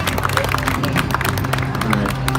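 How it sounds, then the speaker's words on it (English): An outdoor crowd at a street magic show on Fremont Street in Las Vegas gives steady, dense applause, close and loud, with cheering voices mixed in. "give him another round of applause"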